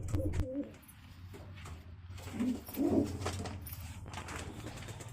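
A solid black pigeon gives a couple of soft, low coos in the middle of a quiet, noisy background, close to the listener.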